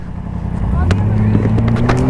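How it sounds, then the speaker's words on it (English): A 2022 Yamaha MT-10 SP motorcycle engine gives a steady, supercharger-like whine with rising tonal bands over a loud, continuous mechanical drone, close and sustained throughout. "It sounds like a supercharger whine, and it is freaking awesome."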